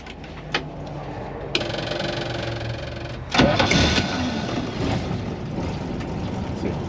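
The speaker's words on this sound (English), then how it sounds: "We just stick her in gear, start it up and go?" An old Land Rover 109 engine cranks with a whirring starter, then catches at about three seconds and settles into a loud, steady rumbling idle close by, with no voices.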